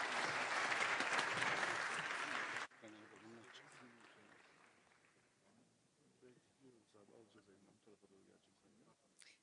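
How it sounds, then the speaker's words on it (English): An audience bursts into loud, dense applause for a panel at a NATO summit event. The applause cuts off abruptly after about three seconds, and a speaker then talks quietly at a podium. "Please join me in giving them a round of applause."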